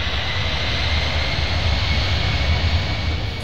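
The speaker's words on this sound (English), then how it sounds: "the captain, who is the pilot flying, sets full power, and a few seconds later, the aircraft begins its takeoff roll" DHL cargo aircraft engines set to full takeoff power at the start of the takeoff roll: a loud, continuous, even roar with a low rumbling base and airy hiss, steady throughout.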